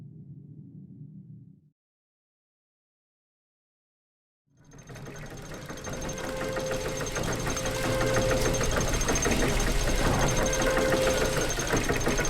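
A machine's engine in the game The Book of Unwritten Tales 2 starts after a brief low hum and a few seconds of silence, then settles into a loud, steady mechanical chugging and rattling with a whine that carries to the end.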